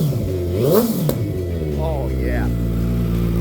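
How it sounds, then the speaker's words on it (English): A 2014 Honda CBR650F street motorcycle's engine revs up and down loudly and close by, with rising and falling pitch sweeps, while someone speaks briefly over it. "Even for a street focused regular commuter bike, this thing sounds pretty nasty."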